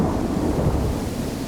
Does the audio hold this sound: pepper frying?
no